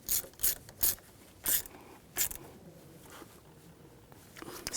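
A ratchet tightens the negative battery terminal on a 2011-2019 Ford Explorer in a few short, close bursts of clicking, then quiet, with no speech.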